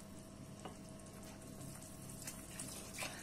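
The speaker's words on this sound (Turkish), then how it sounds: "Sürekli karıştırarak yoğurtlu suyunu veriyorum." Yogurt sauce is poured into simmering chard soup and stirred in, making a faint, steady watery pour and bubbling with occasional small splashes and clinks, and no talking.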